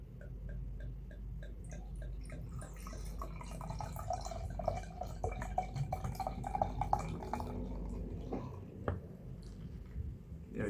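Craft Kölsch-style beer pours from a bottle into a glass, a soft liquid gurgle and trickle with faint fizz and small clinks, quiet and close.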